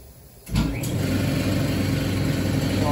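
Air compressor in a woodworking shop kicks on abruptly with a thump and settles into a loud, steady motor drone with a rhythmic pulsing chug, continuous and close, no talking.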